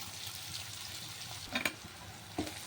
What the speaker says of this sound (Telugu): ఇప్పుడు అయితే ఉల్లిపాయలు పచ్చిమిరపకాయలు వేసుకున్నాను.